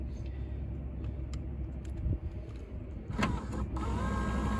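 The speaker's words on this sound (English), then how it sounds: "you can hear it and nothing happens. It doesn't move the window." A car power window regulator motor whirs and strains inside the door of a Lexus SC300 while the glass stays put, likely from a snapped cable, a faint steady hum with a couple of clicks, heard close and alone.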